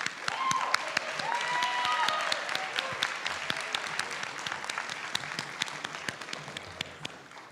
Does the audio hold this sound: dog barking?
no